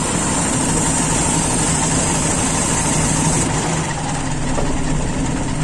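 A car engine idles roughly with strong vibration caused by a faulty or mismatched PCV valve, a loud steady low rumble close by throughout, with no talking.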